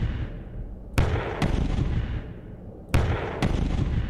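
Gunfire in the video game Underland: two pairs of sharp, loud shots, each pair about half a second apart, over a rumbling game background with no talk.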